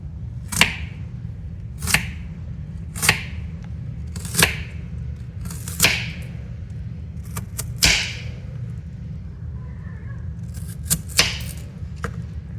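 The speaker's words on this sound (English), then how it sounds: "So I finished cutting these onions" A knife chops through onions on a cutting board in a home kitchen, with about a dozen sharp, crisp strikes at a steady, unhurried pace, close and clear over a quiet background.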